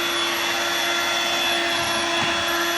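A Dirt Devil Vibe corded bagless stick vacuum runs alone with a steady loud whine and strong motor hum.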